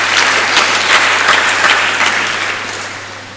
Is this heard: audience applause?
yes